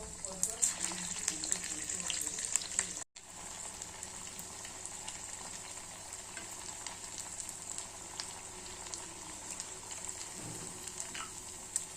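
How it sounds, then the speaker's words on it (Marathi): A square-shaped snack dish deep-frying in hot oil gives a steady, fairly quiet sizzle with faint crackles that runs continuously, with a brief dropout early on. "या पद्धतीने छान अशी मी डिश तळून घेत आहे"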